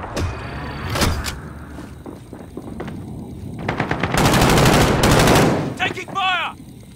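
Heavy automatic gunfire from a Call of Duty Modern Warfare Warzone quads match, loud sustained bursts with scattered single shots and clanks amid game effects, ending with a brief electronic chirp.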